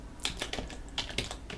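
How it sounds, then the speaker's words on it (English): Rapid typing on a computer keyboard: a run of irregular, crisp key clicks and taps, close and fairly loud, with no talk over it. "So I was actually typing here, right?"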